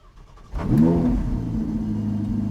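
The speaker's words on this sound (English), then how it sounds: "master switch on, and then ignition, start the engine" A Ferrari 488 Challenge EVO race car engine cranks and fires at half a second, flaring up loudly before settling into a steady, rumbling idle close by.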